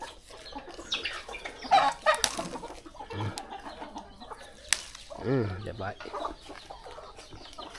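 Thai native chickens cluck and squawk nearby in a backyard, with scattered bird calls and a person speaking briefly in the middle.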